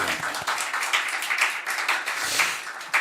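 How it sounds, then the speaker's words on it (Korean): A church congregation claps in a lively, scattered burst of applause, moderately loud and continuous, with no speech over it. "이럴 때 박수 치는 거예요, 하나님께"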